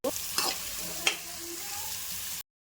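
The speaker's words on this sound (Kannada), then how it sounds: "ಈರುಳ್ಳಿ ಫುಲ್ ರೋಸ್ಟ್ ಆಗಬೇಕು, ಸ್ವಲ್ಪ ಲೈಟ್ ಬ್ರೌನಾಗಿ ಬರಬೇಕು" Onions fry in a pan with a steady, close broadband sizzle, broken by a couple of brief scraping stir strokes, with no talking.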